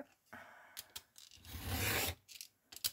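Paper is cut with a cutter in a series of short rasping strokes, a longer scraping pull in the middle, close and fairly quiet.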